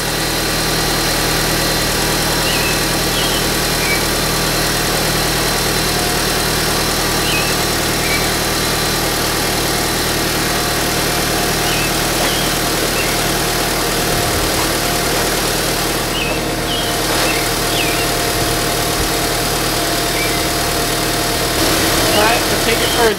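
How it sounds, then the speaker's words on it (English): A 2001-2005 Honda Civic engine idles steadily and evenly throughout, a constant low hum with faint rattling and occasional small clicks nearby. "Alright, we got the car started."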